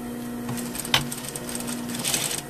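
Sewing machine stitching inside the seam allowance of a double welt pocket, with a fast steady mechanical whir and needle clatter. The run starts and stops with a brief clunk partway through, close and alone.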